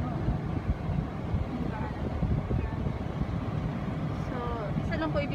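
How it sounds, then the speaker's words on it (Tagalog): Strong gusty wind roars during a sandstorm in Riyadh, a steady broadband rush buffeting the microphone, with faint chirps near the end. "Lakas ng hangin, nakikita niyo yung mga puno."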